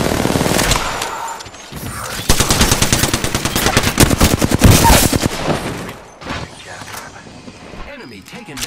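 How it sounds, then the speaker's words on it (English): Rapid automatic gunfire is aimed at enemies in a shooter video game, heard as loud, dense machine-gun bursts that rattle for several seconds and then break off into scattered mechanical clicks and quieter game sounds. "Opening fire on the enemy."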